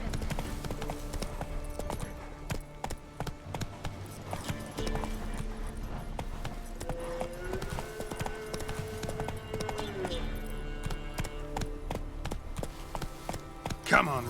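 Rhythmic clip-clopping hooves of a galloping horse in The Witcher 3 video game, steady and close, over a continuous droning musical backdrop.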